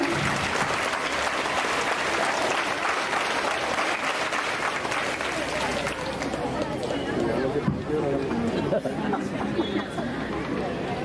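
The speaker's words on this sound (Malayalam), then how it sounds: "നന്നായി ഒന്ന് കൈയടിക്കും എല്ലാവരും." Crowd applause at a school annual athletics meet in Kerala, sustained clapping from a large gathering mixed with background chatter and babble, continuing steadily before thinning slightly toward the end.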